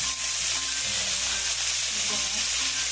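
Pork belly sizzling on a wood-fired grill, a dense, continuous crackling hiss that stays loud and close throughout with no voices.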